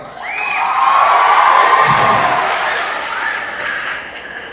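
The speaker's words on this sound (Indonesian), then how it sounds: "Beri tepuk tangan buat mereka." A crowd applauds and cheers for children leaving the stage at a talk, a loud, sustained wash of clapping and shouts that swells and then slowly tapers off.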